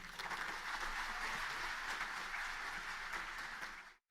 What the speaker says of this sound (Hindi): ताली तो बजा दी आपने